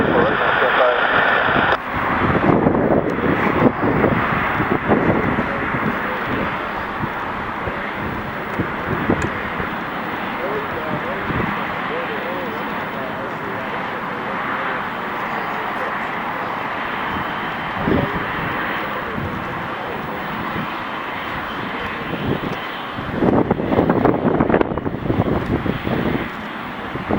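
Fixed-wing airplane approaching to land on runway 24, a steady broad engine roar with wind noise throughout, swelling louder near the end.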